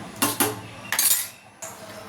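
A metal spoon stirs turmeric, coriander-cumin powder and red chilli into kadhi in a pot, giving three distinct clinking scrapes against the vessel, close and fairly loud.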